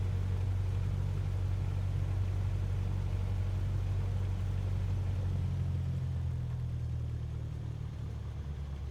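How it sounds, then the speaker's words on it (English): Steady, droning propeller-engine rumble from a Cessna 152 taxiing to the holding point at low speed, continuous and fairly even with a slight drop near the end, no talking. "we are taxiing again to our holding point and watching our speed so that we don't exceed 30 knots"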